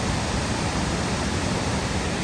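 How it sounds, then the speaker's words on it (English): Panther Creek rushes and roars toward Panther Creek Falls, a steady, dense wash of fast whitewater filling the whole stretch at even loudness with no voices. "roaring and raging, culminating in the beautiful Panther Creek Falls"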